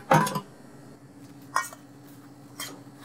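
Apple pie filling with golden raisins, sugar and spices being mixed in a bowl, heard as three separate clinking, scraping bursts of a utensil against the dish, spaced apart with quiet between them.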